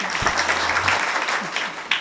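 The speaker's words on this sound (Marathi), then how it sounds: "मी तेच सांगलो ना, वाजव ना टाळ्या" Audience clapping at a kirtan held in Nanded, a dense, steady patter of many hands filling the whole stretch at moderate volume, with a low hum briefly underneath.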